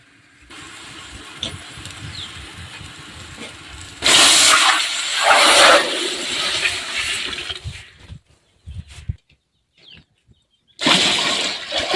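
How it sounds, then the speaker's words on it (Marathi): Water gushes loudly from a tap into a pot in two bursts, with a low rumbling running underneath and quiet gaps between. "मी हे दोन पातेले पाणी ठेवणार आहे"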